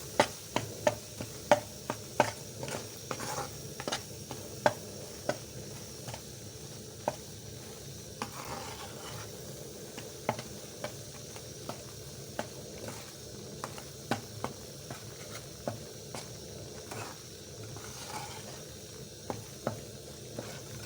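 Wheat flour (aata) roasting in a pan for halwa, a low steady sizzle broken by repeated sharp scraping and tapping of the stirring spoon against the pan, busy in the first few seconds and then more spaced, no talking.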